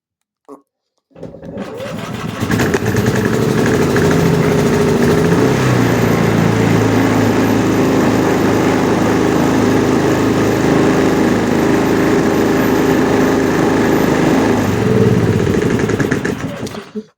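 A Hyundai portable generator, just serviced with an oil change, starts up after a brief click and settles into a loud, steady engine drone that runs continuously close by before cutting off.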